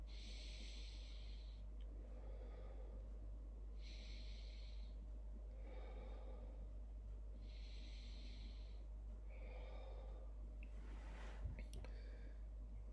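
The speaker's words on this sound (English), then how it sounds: "And then stomach breathing." Stomach breathing exercise with slow, steady, rhythmic breathing, about six airy breaths close to the microphone over a constant low hum, ending with a faint brief knock.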